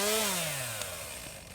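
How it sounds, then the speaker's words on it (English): A chainsaw in the Evil Dead Rise video game runs with a loud motor whine that slowly drops in pitch as it winds down over about a second and a half. "Is that The Texas Chainsaw?"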